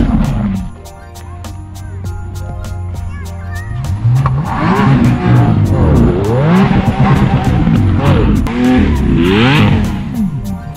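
A Lamborghini Aventador in sport mode pulls away, its engine note rising and falling through repeated revving sweeps, loud and close, with tire noise and a rattling ticking throughout.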